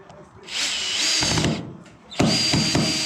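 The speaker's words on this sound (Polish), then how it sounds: "wkręcam sobie wkręta" A power screwdriver drives a screw into a suspended drywall ceiling, two loud whirring bursts of the motor with a short pause between, close by, with faint clatter.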